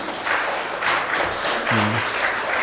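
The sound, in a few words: congregation applause welcoming someone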